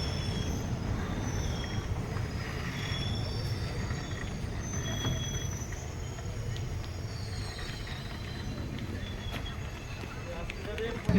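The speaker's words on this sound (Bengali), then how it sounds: "निर्धारित समय থেকে 7-8 মিনিট বিফোর ট্রেন এসে পৌঁছালো রামপুরহাট জাংশন" An express train pulls into Rampurhat Junction with wheels squealing in thin high whines over a rolling, rumbling clatter of carriages, while people talk in the background throughout.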